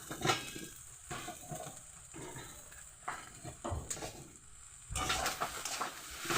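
Eggplant and chili fry in a pan with a steady, close sizzle, broken by scraping stirs every second or so and a louder burst of frying near the end.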